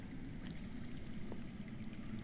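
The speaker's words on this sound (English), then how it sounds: "I hear water. From underground?" Faint, steady rush of running water heard from underground in a Game of Thrones video game, a low continuous trickling wash with no speech.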